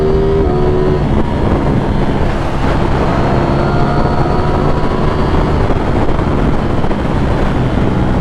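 A 2023 Ducati Streetfighter V4 motorcycle being ridden, heard as loud constant wind rush and engine roar buffeting the microphone, with faint tonal engine pitch shifts beneath the wind noise.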